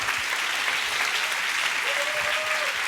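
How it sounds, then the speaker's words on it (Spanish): A church congregation gives dense, continuous applause that stays loud and steady throughout, with a faint voice rising briefly near the end. "Dale un aplauso al Señor."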